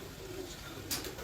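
A Jal (water) pigeon gives a low, soft cooing under steady outdoor background noise at a pigeon flying contest in Gujrat, with a brief hissy burst near the end.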